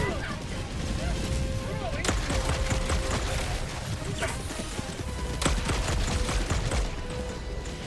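A Gatling gun fires in Helldivers 2, producing a loud, dense, sustained stream of rapid shots layered with explosions and other battle effects that barely let up.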